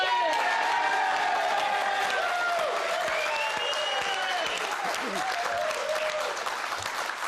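A studio audience breaks into sustained, loud applause with cheering and whoops as guest Al Murray arrives, the clapping steady throughout with a host's voice talking over it.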